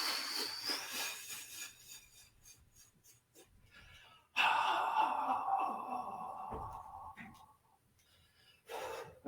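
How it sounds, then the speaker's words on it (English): Slow breathing out during a shiatsu and energy work class: soft, drawn-out exhalations and breaths, close and faint, with an instructor talking at times. "Breathing out."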